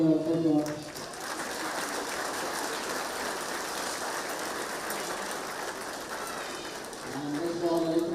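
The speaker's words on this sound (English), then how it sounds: "So just a big round of applause for Portumna, first of all." Applause for the Portumna hurling team after a Galway senior hurling final, a steady broad wash of clapping held at an even level for several seconds, with faint voices at the start and end.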